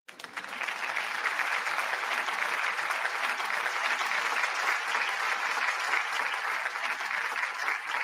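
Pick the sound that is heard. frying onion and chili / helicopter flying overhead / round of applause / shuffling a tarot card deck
round of applause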